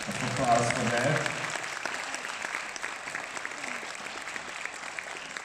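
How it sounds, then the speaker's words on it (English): Comic convention crowd at Budapest Comic Con breaks into applause, loudest at the start with a voice briefly over it, then settling into steady, moderate clapping that carries on throughout. "That's a huge round of applause for that."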